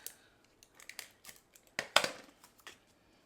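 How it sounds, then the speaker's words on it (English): A tape runner laying adhesive on a paper mat for a pop-up Christmas card makes quiet close crackling, sticky rasps and a few sharper ticks, with one louder burst near the middle. "Let's just add it with some tape runner so that it sticks."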